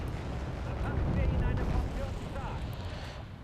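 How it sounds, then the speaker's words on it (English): Artillery bombardment in the Wargame AirLand Battle war game, a continuous rumbling roar of distant shelling with dense low booms blending together, with someone talking over it. "While here I will bombard it with my artillery"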